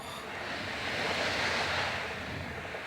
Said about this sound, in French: Ça souffle très fort, le building il bouge carrément.